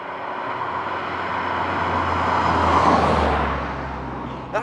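A Lancia Kappa Coupé with an automatic gearbox cruises along, its engine a low, smooth hum under steady road and tyre noise that swells slightly midway and then eases off.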